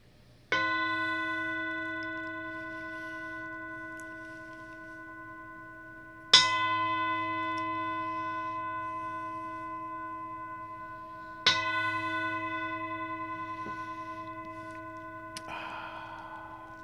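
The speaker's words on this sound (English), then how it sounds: "let's ring the bell 3 times, marking the beginning of our time together, our practice together" A meditation bell struck three times to open a chanting practice, each clear ringing strike spaced several seconds apart and left to decay slowly into quiet, with no voices.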